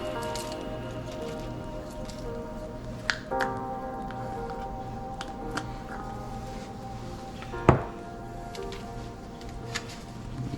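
Vegetables are stirred to coat them in a pan, with soft wet squishing and occasional light clicks of the utensil over a quiet, steady background hum.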